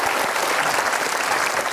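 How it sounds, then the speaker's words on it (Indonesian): Applause from a seminar audience as a volunteer is called to the front of the room, a dense, loud, continuous patter of many hands clapping together, with no voice over it. "Boleh kasih tepuk tangannya?"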